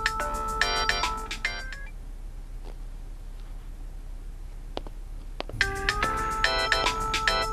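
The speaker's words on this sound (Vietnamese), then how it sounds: "Xin lỗi, tôi quên tắt điện thoại." A mobile phone ringtone rings out during a meeting in two loud bursts of bright, repeating melodic tones, with a stretch of quiet room noise between them.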